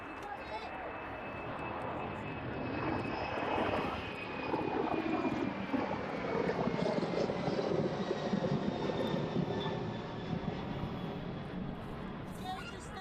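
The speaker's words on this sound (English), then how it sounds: "the Maersk 767 making its way out to Cologne now" A Maersk Boeing 767 cargo jet departing East Midlands airport for Cologne, a loud sustained engine roar with a high whine that swells and stays strong throughout.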